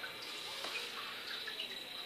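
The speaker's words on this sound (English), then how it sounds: "so I probably should mist her tank again" A spray bottle mists water into a female ball python's tank, giving a soft, steady hiss of fine spray that runs for a couple of seconds, faint and close, with no voices.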